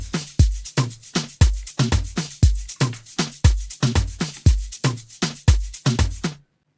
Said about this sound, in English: So now you have a good sounding Afro house drum loop with a 3-step fill.